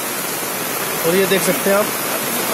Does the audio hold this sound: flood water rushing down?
yes